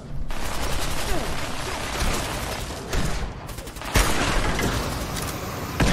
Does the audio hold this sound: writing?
no